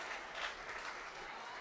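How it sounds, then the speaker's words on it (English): Football fans applaud at a high school game, a soft, steady wash of distant clapping across the stands that swells slightly and holds even, with no close voices. "Good round of applause from all the fans"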